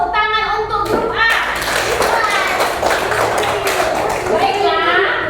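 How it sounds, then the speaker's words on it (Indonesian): Children's group applause in an Indonesian classroom, brief bursts of clapping mixed with a teacher's voice and kids chattering close by throughout. "Tepuk tangan untuk grup A."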